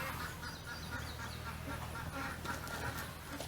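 Muscovy ducks and chickens on a farm, with soft duck calls and clucking mixed into a busy, continuous barnyard din at moderate distance.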